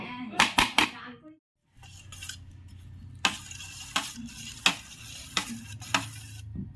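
Rice pulao being stirred in a cooking pot, a series of sharp scraping clinks from the spoon against the pot, close and moderately loud over a low steady sizzle.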